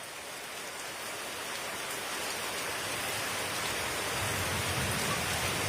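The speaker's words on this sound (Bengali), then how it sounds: "মাঝারি বৃষ্টি শুরু হয়েছে কখনো ঝিরঝিরিয়ে বৃষ্টি অর্থাৎ হালকা থেকে মাঝারি বৃষ্টি কিন্তু শুরু হয়েছে" Moderate rain falls steadily outdoors, a dense even hiss of drops on surfaces that holds for several seconds and grows a little louder, with no talking.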